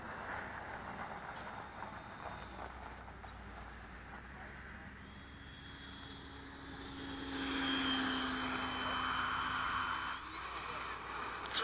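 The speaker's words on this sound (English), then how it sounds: "Touch and go right behind you." An FMS Hawk model jet does a touch-and-go at an outdoor flying field, its whining ducted-fan engine rising in pitch and loudness as it passes near, then easing off, with people talking over it.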